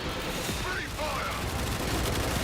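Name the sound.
gunfire in the video game Warframe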